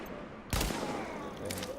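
Gunfire erupts in The Division, a dense burst of shots with a sharp onset and a sustained loud, crackling volley and echoing tail, close and alone with no talking.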